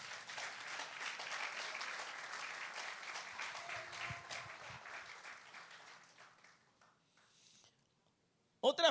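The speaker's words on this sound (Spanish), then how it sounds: "Dale un aplauso al Señor." Church congregation clapping in praise at a sermon on Jewish feasts, a dense round of applause that gradually thins and fades out, followed by a brief sharp noise at the end.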